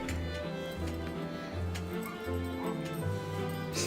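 Reese, a small dog, yapping in short repeated barks at a steady rhythm, fairly faint and off in the background under a low hum.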